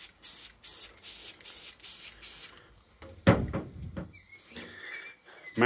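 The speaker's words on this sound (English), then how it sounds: "Sprayer comparison. IK Multi TR." An IK Multi TR trigger sprayer fires a quick run of about six close, hissing sprays at a steady rhythm. Clicks and clatter follow as the sprayer is handled.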